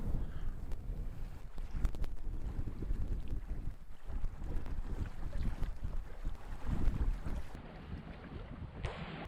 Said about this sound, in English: The wind has picked up a bit and we've come to a point where it's kind of swelling.